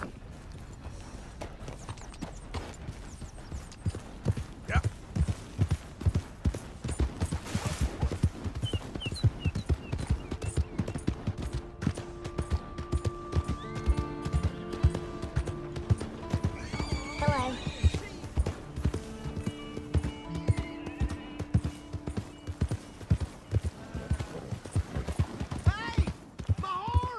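In Red Dead Redemption 2, hooves clip-clop steadily as a horse whinnies several times, with people talking over the sounds throughout.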